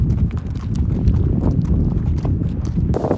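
Horses walk on a multi-day trek across the Kyrgyz highlands toward Song-Kul lake, their hooves clip-clopping in a steady, overlapping rhythm close by.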